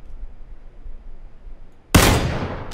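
A single sharp, loud gunshot in a shooter video game cracks out of near-quiet, followed by a decaying echoing tail.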